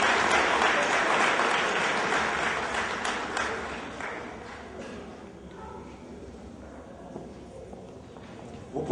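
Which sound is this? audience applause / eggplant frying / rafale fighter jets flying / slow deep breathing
audience applause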